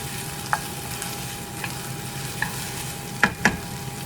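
Frozen cut okra sautés in a pan for paleo gumbo, a soft continuous sizzle under a few sharp spoon clicks and scrapes, the loudest pair near the end, heard up close with no talking.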